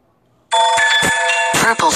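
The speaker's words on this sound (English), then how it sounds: "Yeah, my phone." A phone rings loudly and continuously, starting half a second in after a near-silent moment, with brief low thumps mixed in.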